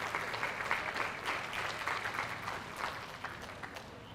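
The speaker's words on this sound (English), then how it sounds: "Big round of applause for our champion drive for these individuals that have put in the hard work." Sustained audience applause fills the hall at the Garland ISD 81st livestock show's cattle judging, a steady, dense patter of many hands clapping at even loudness throughout.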